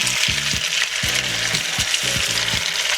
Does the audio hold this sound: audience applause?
no